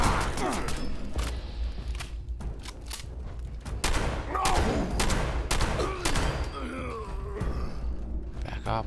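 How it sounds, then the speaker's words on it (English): Gunfire in the Fallout 76 video game aimed at the player, a rapid fusillade of sharp cracks scattered across the stretch, with some shots close and loud and others more distant, over a constant background rumble and occasional breathy vocal sounds. "Who's shooting me?"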